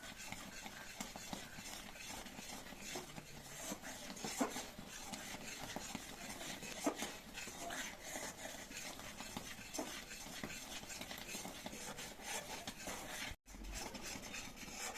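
A spoon scrapes and stirs a thickening sweet mixture with cardamom powder in a pan, giving a continuous soft rubbing and scraping sound, close and quiet, with no voices.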